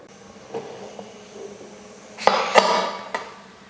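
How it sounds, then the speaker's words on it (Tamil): A pressure cooker lid is closed and its whistle set in place, with a few sharp metallic clanks and knocks close by, the loudest pair coming in quick succession. "குக்கர் மூடி விசில் போட்டாச்சு"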